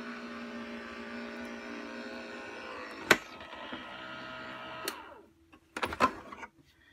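An embroidery machine stitches out a frame with a steady mechanical whirr and rattle, broken by a few sharp clicks and knocks near the end before it winds down.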